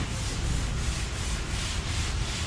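Sanding on a classic car's body panels during restoration work in a shop: a steady, close, rasping scrub with a faint back-and-forth pulse, continuous throughout with no talking.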